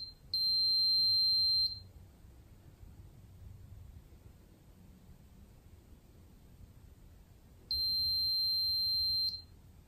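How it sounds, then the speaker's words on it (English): A SARCTRAC 3D antenna-tracker sensor gives two long, high electronic beeps during its calibration, each lasting about a second and a half and several seconds apart, with quiet background hiss between them. "I point the left side of the sensor vertically, and search around until SARCTRAC stops beeping."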